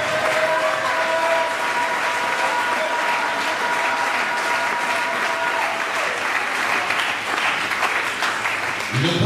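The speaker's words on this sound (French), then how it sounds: "Est-ce qu'on ne peut pas acclamer pour Dieu?" A church congregation in Lubumbashi breaks into sustained, dense applause that fills the room at steady loudness, with faint voices and a held tone mixed beneath the clapping.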